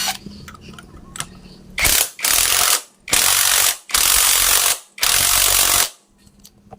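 Ratchet wrench tightening a clutch part on a Honda Revo motorcycle, several loud rapid clicking bursts in a row with short pauses between, close up and alone apart from faint background noise.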